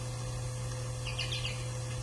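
Goldfinches call in a cluster of short, bright chirps partway through as they land on seed heads, faint and a little distant over a steady low background hum.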